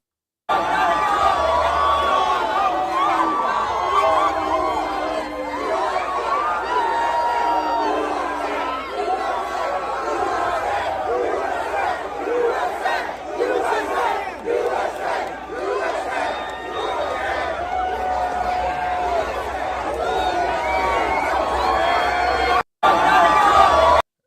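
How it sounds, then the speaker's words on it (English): Large, dense crowd packed around Donald Trump at an Iowa campaign event, with continuous shouting and chanting voices blending into a loud, steady roar throughout, cut by a brief dropout near the end. "there's a really big crowd around him"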